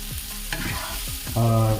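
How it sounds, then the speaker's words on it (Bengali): Sliced onions with a little salt fry in a pan, a close crackling sizzle broken by quick scraping stirs of a spatula, ending in a louder scrape. "ফ্রাইংয়ের সময় তাড়াতাড়ি যাতে পেঁয়াজ সফট হয়ে যায় অল্প নুন দিয়ে নিলাম"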